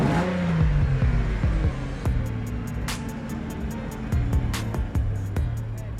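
A V12 engine of about 385 horsepower, fitted in a custom 1965 Volkswagen Bug, rumbles and revs up and down in a few low surges, close by, with sharp clicks and clatter over it.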